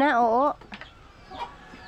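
A chicken gives a brief, wavering cluck at the start, followed by faint background noise and a few soft sounds.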